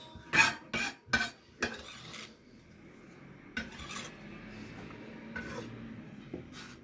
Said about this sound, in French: On le met dans un récipient pour couper le restant, l'échalote et l'ail.